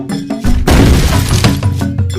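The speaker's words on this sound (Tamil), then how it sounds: "ஒரு அடியில் இப்படி நொறுங்கி போய்விட்டதே" Something shattering from a single blow in a Western comic dramatization, a loud close crash with a burst of breaking debris that rings out briefly, framed by shorter impacts and no talk.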